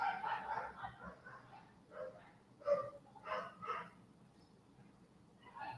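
Several dogs bark in scattered bursts at a distance, faint and irregular, with a low background hum throughout.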